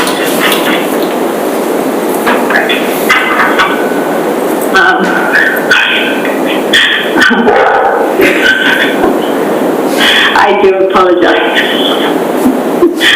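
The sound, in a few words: dog barking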